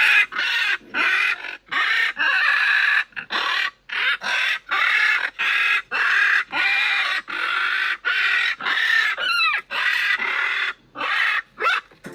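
Pet macaws riding in a car scream in loud, repeated bursts at passing pigeons and people, the harsh calls coming in quick succession and close to the listener, with brief gaps between them.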